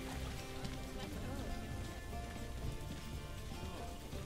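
Rain in the zoo-building video game Planet Zoo makes a dense, even hiss of falling drops that stays steady and fairly loud throughout, with no other sound standing out.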